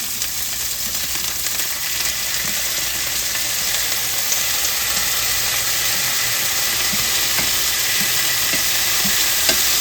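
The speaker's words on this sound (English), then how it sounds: "Looks like it's getting a good sear onto it." Pork medallions sear in a hot pan, a steady loud sizzle and hiss running unbroken throughout with faint crackles underneath.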